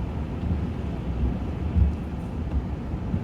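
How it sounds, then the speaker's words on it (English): Strong wind from a winter blizzard in Ontario, a steady low roaring buffet that swells slightly and never lets up, with no voices. "This is an insane storm."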